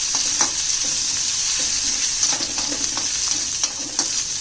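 Crushed garlic and crushed green chilies sauteing over a lowered flame in a pan for a Maharashtrian zunka, giving a steady close sizzle with occasional scraping stir sounds and no talking.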